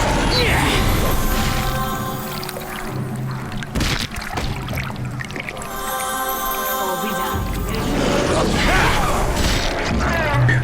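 In the Neverwinter Nights computer role-playing game, a magic missile spell strikes during a battle, with bursts of booming, crashing impact effects layered over dense game sound and speech.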